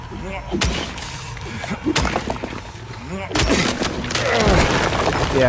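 Rapid bursts of video game gunfire from Silent Hill, sharp repeated shots scattered through the clip and mixed with a voice talking over them.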